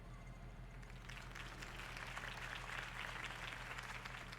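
Sustained crowd applause from a large audience, steady and fairly quiet, as if heard from a distance, in the video game Batman: The Telltale Series.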